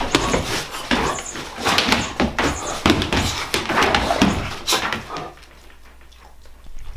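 Several dogs bark in the morning, a run of sharp, loud, irregular barks close by that stops abruptly, leaving a quiet room tone at the end.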